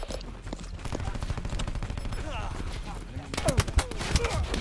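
Rapid gunfire rattles in Call of Duty: Black Ops 4, with dense bursts of shots and heavier cracks near the end, mixed with game noise.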